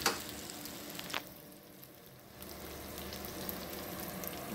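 Julienned onion and beef frying together in a pan, a steady close sizzle with crackling pops that dips briefly and then swells back, alone with no talking.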